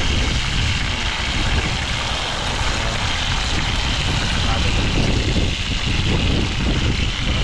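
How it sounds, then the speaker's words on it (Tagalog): Strong wind blows across open water on the way to a tilapia island, a loud, constant rushing roar buffeting close by for the whole stretch, with voices talking faintly under it. "Tama yung ano, malakas po yung hangin dito."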